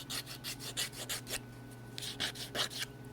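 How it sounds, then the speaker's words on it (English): Rhythmic rasping strokes of a sanding tool on a dog's toenail, about a dozen quick bursts with a short pause midway, close up with a steady low hum beneath. "you want a little more aggressive sandpaper or sanding tool for your dog"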